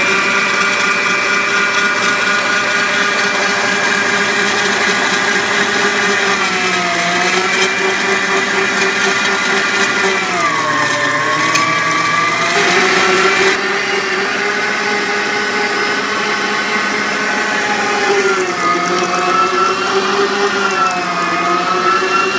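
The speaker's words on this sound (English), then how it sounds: "this meat grinder is going to be very loud" A meat grinder coarsely grinds beef for ground beef jerky, a loud, continuous motor whine that shifts pitch as the load changes, running steadily throughout with no talking.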